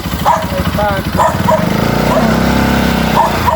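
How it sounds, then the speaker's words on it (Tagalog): A dog barks several times at a moderate distance over a droning engine hum, with people talking nearby. "May aso doon."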